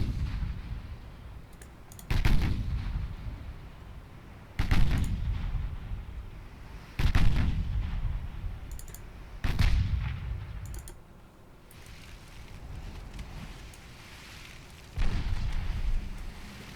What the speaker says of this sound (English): 6-inch guns opening up.